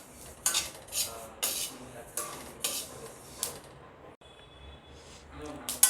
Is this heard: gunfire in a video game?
no